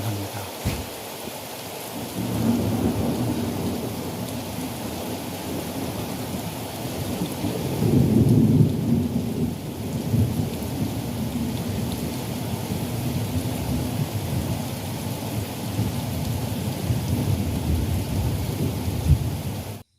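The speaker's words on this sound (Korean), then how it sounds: "천둥 소리와 함께 비가 쫄깃하게 내립니다" Thunder rumbles low and long over steady rain falling on a farm in hot August weather, the downpour hissing continuously with a heavier swell of thunder partway through, and no voices.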